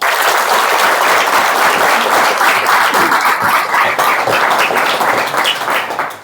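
An audience at a coaching-classes event applauds loudly and steadily, a thick roar of many hands clapping up close that fades slightly at the end, with no speech over it.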